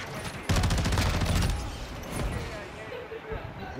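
Rapid bursts of gunfire from a Call of Duty match, loud and dense for about a second, then thinning into scattered shots while a player talks over the action.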